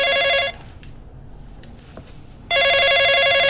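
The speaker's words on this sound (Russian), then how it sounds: "Нужно взять трубку до того, как сработает автоответчик." A telephone rings loudly and close by, waiting for an answering machine to pick up. There is one short burst of ringing, then about two seconds of near silence, then the ringing starts again.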